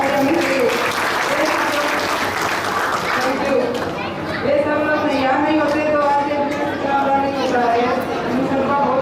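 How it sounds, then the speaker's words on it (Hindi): Seminar audience in Kamrej, Surat clapping loudly and continuously, a thick wash of applause mixed with chatter and voices talking over it. "जोरदार तालियां होनी चाहिए।"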